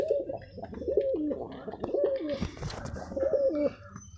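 Male pigeon cooing in a repeated pattern of throaty phrases, close and fairly loud, with several distinct coos spaced through the clip and no talking.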